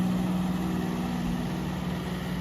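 A new John Deere 5210 tractor strains to pull a loaded trolley out of a field, its engine holding a steady, low, droning hum with no talk.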